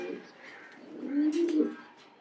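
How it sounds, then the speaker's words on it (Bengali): A checker female racing pigeon cooing softly nearby, one low rolling coo swelling in the middle of a short, quiet stretch. "একটা চমৎকার একটা চেকার মাদি কবুতর রাখা আছে"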